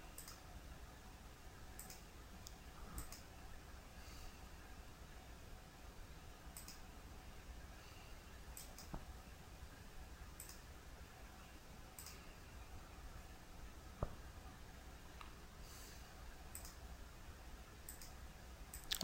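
A computer mouse clicks repeatedly while working with beams in CAD software, a steady series of faint, crisp single and double clicks spaced a second or two apart over quiet room noise.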